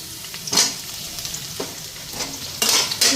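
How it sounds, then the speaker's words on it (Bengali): Onion and potato frying in an oily pan, a steady sizzle broken by a few sharp scrapes and stirs of a spatula, close and fairly loud, with no voices. "ভালো করে লাল করে পেঁয়াজটা ভেজে নিচ্ছি"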